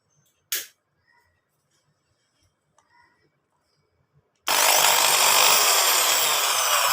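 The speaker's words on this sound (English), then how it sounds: "So now we have reassembled this drilling machine and we will check whether it's working or not." A reassembled electric drilling machine switches on after a few quiet clicks and handling noises, then runs with a loud, steady, high motor whine to the end.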